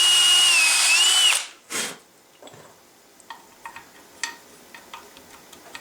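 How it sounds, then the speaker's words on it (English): A power drill whines at high speed for about a second, spins down, then gives a short burst before a run of faint clicks and ticks, at a gunsmith's bench. "Make sure you don't drill out the other side."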